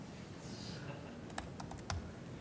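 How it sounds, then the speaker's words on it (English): Several light clicks of computer keyboard typing, quiet against a low background hum, with a couple of sharper keystrokes near the end. "typing is difficult."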